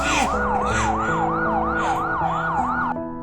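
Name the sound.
police arriving with siren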